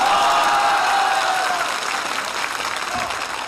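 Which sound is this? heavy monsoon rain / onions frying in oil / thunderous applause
thunderous applause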